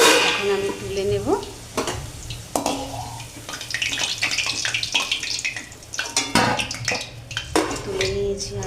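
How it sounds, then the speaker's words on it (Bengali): Potatoes fry in hot oil for a chicken curry, a steady sizzle broken by scraping spatula strokes and clinks of pan and utensil as the browned pieces are lifted out; no talking. "আলুগুলো লাল লাল করে ভাজা হয়ে গেছে, এখন আমি তুলে নেব"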